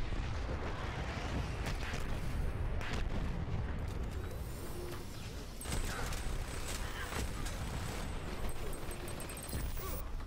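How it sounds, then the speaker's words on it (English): Airstrike blasts rain down in the team shooter Dirty Bomb during an alleyway fight, a dense, continuous roar of overlapping booms and rumbling impacts with scattered gunfire, loud and sustained throughout. "Airstrike."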